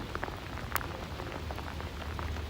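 Sleet of partly melted and fully frozen ice pellets falls steadily during a New York City sleet storm, making a dense, even patter with a few sharper ticks standing out, and no voices.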